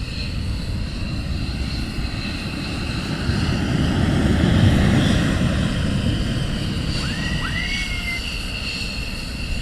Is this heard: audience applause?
no